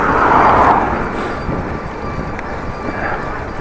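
Rail wheels squeal along the track during a train ride, a steady high metallic whine sitting over a continuous rumble of the moving carriage, loudest at the start and fading slightly.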